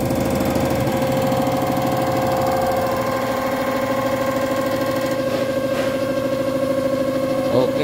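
A Hyundai Porter 2 D4CB diesel engine idles steadily throughout with a constant low rumble and slight vibration; a voice briefly speaks once near the start.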